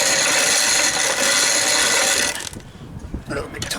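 Grain ground into flour in a hand mill, a loud steady grinding whir that stops partway, followed by quieter clicks and mechanical knocks.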